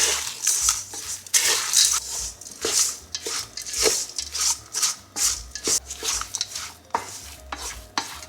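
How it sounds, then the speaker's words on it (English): Lentil mushroom burger mixture being stirred and mashed in a bowl, a steady run of wet, squelching scrapes and rubs repeating in quick strokes, close and fairly loud with no talking. "So just mix it until everything is combined."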